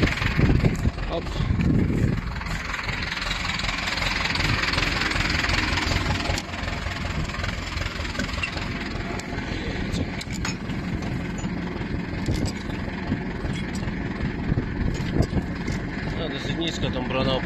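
An Ursus C-360 tractor engine drones steadily at a low idle-like rumble while pulling heavy harrows, with a louder burst at the start and someone talking over it.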